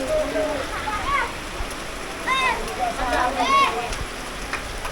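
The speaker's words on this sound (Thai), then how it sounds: "ต้องได้ลบฝนอยู่ตารางเฮือนนั่นแหละตอนนี้ฝนน่ะกำลังเลย" Rain falls on a village house roof in rural Thailand, a steady hiss of drops, while voices talk over it in several short bursts.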